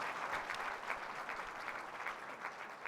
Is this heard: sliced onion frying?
no